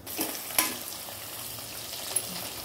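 Whole spices such as cloves, cinnamon and cardamom fry with a bay leaf in hot oil for mutton yakhni biryani, giving a quiet, steady sizzle with a couple of sharp stirring clinks, and no voices.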